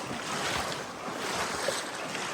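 River water in the Narrows of Zion National Park rushes and splashes steadily around hikers wading upstream, a broad, continuous wash of sound with some wind buffeting the microphone.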